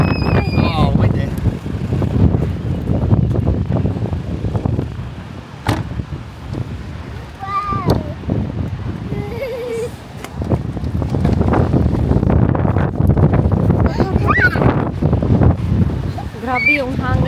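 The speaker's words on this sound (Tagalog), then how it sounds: "Grabe yung hangin." Strong typhoon wind buffets the microphone in a steady, loud roar with gusty surges throughout, while people talk intermittently over it.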